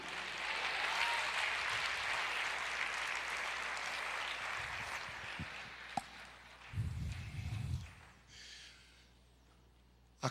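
A church congregation claps together in loud, sustained applause that slowly fades, followed by scattered shuffles, thumps and a few sharp knocks.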